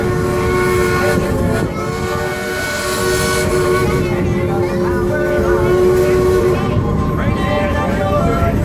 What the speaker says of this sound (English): See that engine run by, boy.